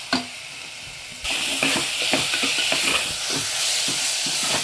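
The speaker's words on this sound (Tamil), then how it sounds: "தக்காளி போட்டு எல்லாம் ஒன்றா சேர்த்துருங்க." Loud, continuous sizzle as tomatoes hit the hot pan, with repeated clicks and scrapes of stirring throughout.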